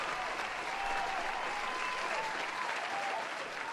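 Steady applause from a live audience at a homebrew review night, a dense continuous patter of many hands clapping at even loudness with no pauses throughout.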